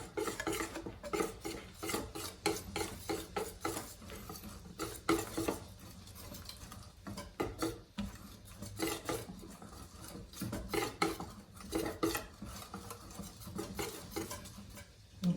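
Cooked jackfruit is mixed in a bowl for sapin-sapin, giving a steady, close run of scraping, stirring strokes with utensil clinks against the bowl, moderately quiet and without talk.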